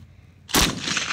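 Army annual training on a firing range: a weapon, likely a 240 machine gun, fires rounds downrange, a sudden loud blast after a quiet lead-in, followed by sustained roaring echo and noise.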